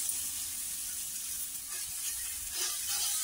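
Chila batter spread on an oiled tawa gives a soft, steady hiss of sizzling that holds even throughout with no talking.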